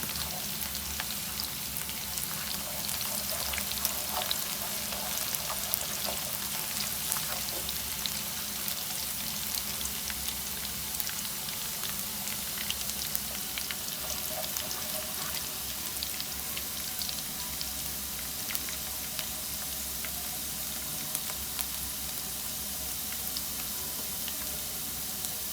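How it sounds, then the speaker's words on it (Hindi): Onions fry lightly in a pan while making besan khandvi, a soft, steady sizzle running unbroken throughout at fairly low level with no talking. "प्याज को हल्का फ्राई करेंगे।"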